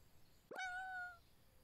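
A cat in the Everdream Valley video game gives a single short meow that rises sharply and then holds a clear tone, heard alone over quiet background.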